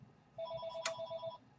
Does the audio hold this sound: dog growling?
no